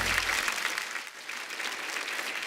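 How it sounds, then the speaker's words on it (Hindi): Steady applause from a studio audience at The Kapil Sharma Show fills the clip, dense clapping continuing at an even level throughout. "जोरदार तालियां हो जाए"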